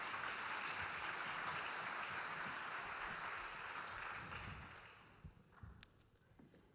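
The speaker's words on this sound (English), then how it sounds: "Can we give a round of applause as our speakers" Audience applause at an AI conference session as four speakers leave the stage, a dense, steady clapping that holds loud for several seconds and then thins out and fades toward the end.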